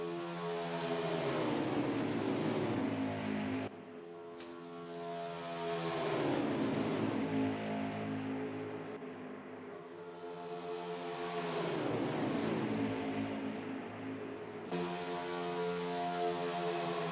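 Race trucks roar past repeatedly at Talladega during a truck series race, each pass a loud rising-then-falling engine drone with Doppler sweep, overlapping in a continuous pack of engine noise.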